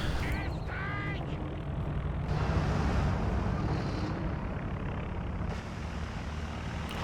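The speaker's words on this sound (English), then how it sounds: "we've got the recon plane up for Serrith" A reconnaissance plane drones overhead in Company of Heroes 2, a dense, continuous engine roar that stays loud and even throughout, with brief higher whistling sounds early on.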